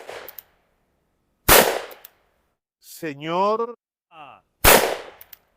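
Three loud, sharp revolver shots from a Smith & Wesson Schofield ring out a second or more apart, each with a short decay, while someone speaks briefly between them.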